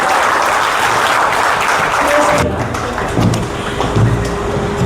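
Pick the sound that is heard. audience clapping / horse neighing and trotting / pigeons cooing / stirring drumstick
audience clapping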